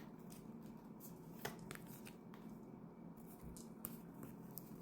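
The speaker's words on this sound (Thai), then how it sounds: "ขอหยิบไพ่ห้าใบนะคะ" Five fortune-telling cards are picked from a deck in a quiet room: faint, soft slides and crisp little snaps and flicks of card stock, close and intermittent.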